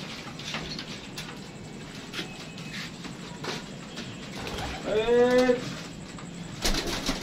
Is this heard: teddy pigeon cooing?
yes